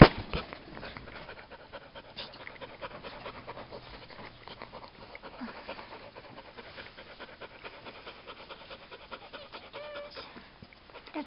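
A dog pants in quick, steady breaths at close range throughout, fairly soft, with a brief whimper-like note near the start and no talking.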